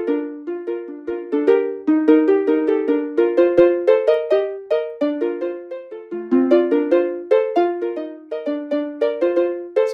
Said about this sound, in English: That's how you build the Jurassic Park themed doorbell.